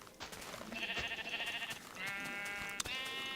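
Sheep bleating in the Minecraft video game, two drawn-out synthetic bleats one after another, clear and close with no talk.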